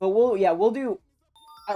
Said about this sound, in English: It's some sort of notification, but I haven't tracked it down.